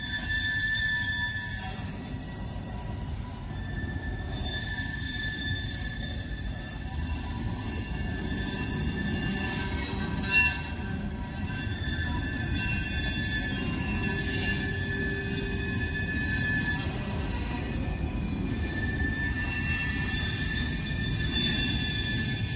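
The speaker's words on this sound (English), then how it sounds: "they're pushing these cars in here for CSX to pick up from Norfolk" Freight rail cars pushed through a rail yard, ready for pickup between CSX and Norfolk Southern, grind along with continuous rumbling and sustained, high-pitched wheel squeal that rises and fades across the whole stretch.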